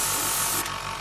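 An airbrush sprays SMS premium black paint onto a model kit, a steady close hiss that cuts off briefly near the end.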